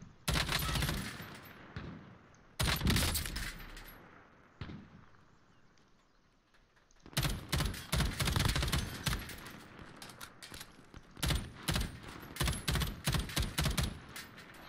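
Gunfire in the video game Call of Duty Warzone: loud, rapid bursts of shots in dense clusters, a quieter lull in the middle, then repeated volleys crackling close and sharp.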